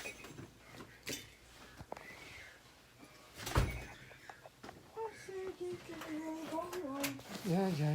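An old front door is opened with a few sharp knocks and clunks of wood and latch, followed by a voice speaking nearby.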